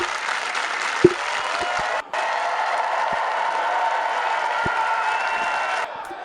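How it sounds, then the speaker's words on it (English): A wrestling crowd booing at a club show before a match, a steady sustained roar of disapproving voices filling the hall, with a few isolated thumps and a brief dropout along the way. "Nick is telling the crowd to stop the booing"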